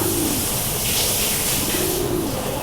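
Lahori pigeons coo softly in a couple of drawn-out, low calls over a steady hissy background.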